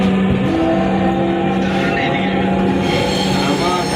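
A Dhaka metro rail train runs along the track with a steady loud rumble, wheel hum and faint tonal whine, heard from inside the car with no talk over it.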